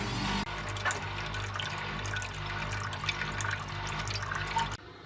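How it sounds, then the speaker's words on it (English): Water from a Bush 721QW washing machine drain runs and splashes steadily into a basin or drain, a continuous gurgling flow with no voices, cutting off abruptly near the end. "As the machine spins, we should get a little bit more water coming out, but not much."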